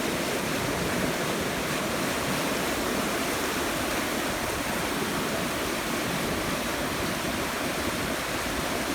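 Floodwater pours over a river weir in a flooded valley, a steady, loud, broadband roar of rushing water that holds constant throughout with no voices.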